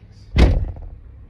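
A car door slammed shut once, a loud, close, heavy thud that rings out briefly and then fades, with no talk over it.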